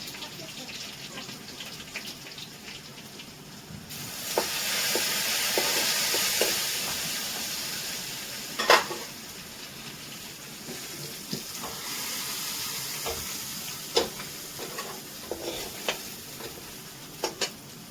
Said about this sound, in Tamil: கடுகு நல்லா பொரிஞ்சிடுச்சு. இது கூடவே காஞ்ச மிளகாய் போட்டுக்கலாம். கருவேப்பிலை, அது கூடவே கொஞ்சம் பெருங்காயம்